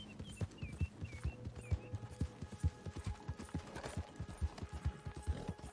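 Hooves of a horse clip-clopping in a video game, a quick, regular train of hollow knocks at a trotting rhythm, fairly quiet, with faint mechanical game sounds and brief tones behind.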